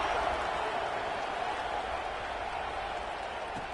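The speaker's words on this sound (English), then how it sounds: "this crowd is buzzing after that last score" A football stadium crowd during a Penn State game keeps up a steady, distant roar and buzz, broad and unbroken, with no distinct claps standing out.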